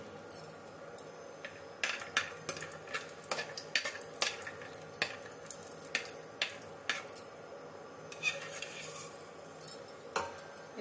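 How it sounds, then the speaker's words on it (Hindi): Dry fruits roasting in ghee in a kadhai on a gas stove, with a faint sizzle under a steady stream of small clicks and taps as a spoon moves them around. "थोड़ा सा पहले हम थोड़ा सा ये ड्राई फ्रूट को रोस्ट कर लेंगे"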